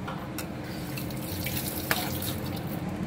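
Running tap water splashes steadily into a sink while a sauce bowl is rinsed in a home kitchen, a faint continuous stream with a few small knocks and clinks.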